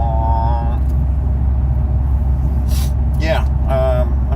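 A Honda Civic Si's engine gives a low, steady rumble from inside the moving car, heard close up. Brief whistles, a squeal and a few short bursts break over the drone.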